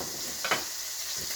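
Lamb shanks browning in a pan, a steady, fairly loud hiss of sizzling fat with a brief spatter or stir midway.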